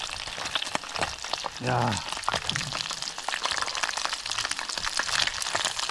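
Battered smelt fish deep-fry in oil on a frozen lake at minus 15 degrees, a dense close crackling sizzle running throughout while someone speaks briefly.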